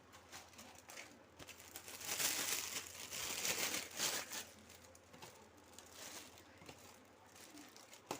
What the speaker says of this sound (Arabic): هنعبي كيس كمان معاكم